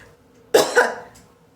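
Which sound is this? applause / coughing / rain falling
coughing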